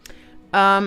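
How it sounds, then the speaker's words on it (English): A regular blow dryer switched on at its hottest setting, starting abruptly and whirring loud and steady with a strong tonal hum after a brief quiet moment. "The setting on the blow dryer, Megan, is just hot. The hottest setting. And it's just a regular blow dryer."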